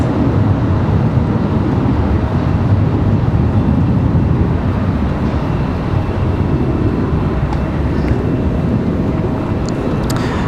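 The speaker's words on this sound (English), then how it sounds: "Beautiful shot of Etihad's arrival." An Etihad airliner arrives at Washington Dulles airport with a steady, loud, broadband jet roar that stays constant throughout, heard from a distance and without talk.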